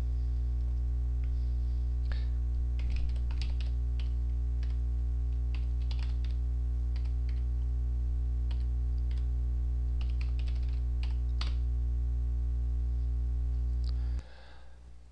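Computer keyboard typing in irregular bursts of close, light clicks over a steady electrical hum, with no voices, ending abruptly.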